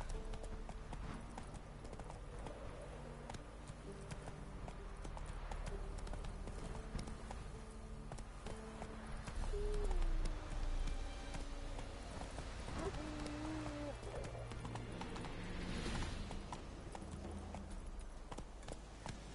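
Hooves of Roach, a horse in The Witcher 3, clip-clop at a steady rhythmic gallop over a game soundtrack and ambience, moderately loud throughout with a brief tonal sweep midway.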